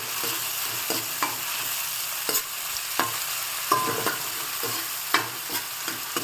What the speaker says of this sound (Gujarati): ધીમે ધીમે સંતળાવા લાગ્યું છે ટમેટાં અને